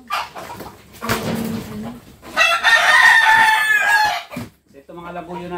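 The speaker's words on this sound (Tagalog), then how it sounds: "Ito mga labuyo natin mga lagalag. Galing sa Ligaspi nga, 4 na piraso." Labuyo wild junglefowl roosters from Legazpi crow nearby, one loud drawn-out crow following shorter calls and clucks, with a brief burst of another bird at the end.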